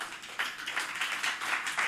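An audience claps to welcome a traditional Korean instrument team taking the stage at a CEO club networking party, a short burst of steady, moderately loud applause.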